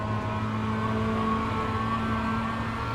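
A Mazda MX-5 in the iRacing sim runs at full throttle, its engine droning steadily and loudly at a constant pitch with no talk over it.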